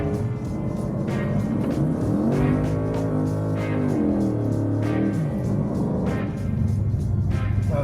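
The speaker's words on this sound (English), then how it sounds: "That was not a good burnout." A 700-horsepower BMW M3 doing a burnout, its engine loud and close, with revs repeatedly rising and falling in long, surging sweeps and no talking over it.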